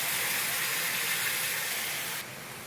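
Tomato puree poured onto hot fried spices in a pan, a loud steady broadband sizzle and hiss that drops abruptly near the end.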